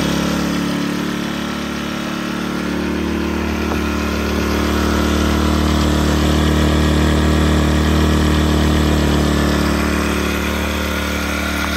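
A Sportsman GEN1000i inverter generator runs steadily, its even low engine hum holding close and constant with a slight swell in loudness midway, and no voices over it.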